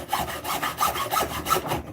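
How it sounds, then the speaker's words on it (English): A handsaw cuts through wood in a workshop while making a flute, giving rhythmic back-and-forth rasping strokes, about six of them, close and moderately loud, with no talking. "are going to be wondering why I'm using a handsaw"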